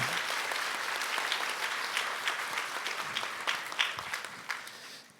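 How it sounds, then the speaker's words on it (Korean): Warm applause from a church congregation at an all-member retreat fills the room, dense and steady for several seconds, then thins out and fades toward the end. "우리 힘내시라고 격려의 박수 한번 보낼까요?"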